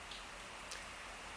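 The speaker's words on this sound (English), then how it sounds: "So, it's raining here" Steady rain falls outdoors in Metro Manila, a soft continuous hiss with faint scattered drop ticks and no voices.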